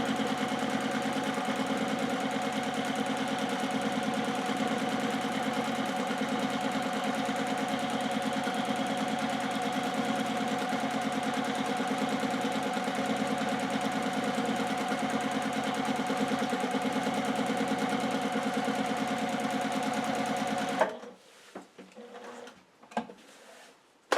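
Sewing machine stitching steadily through a quilt sandwich during free-motion quilting of straight-line practice designs, a continuous close mechanical hum and rapid needle rhythm running for about twenty seconds before stopping abruptly, followed by a few faint handling sounds.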